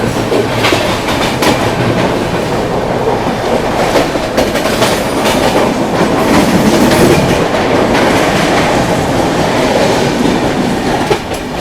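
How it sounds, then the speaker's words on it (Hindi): An AC local train pulls out of Mumbai's CSMT terminus alongside the Mandovi Express, with loud, continuous rolling rumble and rhythmic clickety-clack of wheels over rail joints heard from close by aboard a train. "बगल में देखो AC लोकल ये भी निकल रही है अपने साथ साथ।"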